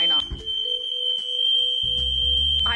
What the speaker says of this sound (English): fire alarm is going off.